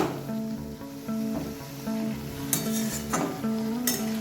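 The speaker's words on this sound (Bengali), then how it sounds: "এবার সবটাকে খুব ভালোভাবে মিশিয়ে নেব।" Bottle gourd leaves are stirred in a pan with a gentle sizzle, while a utensil scrapes and lightly clinks against the metal at an uneven pace, close and moderately quiet.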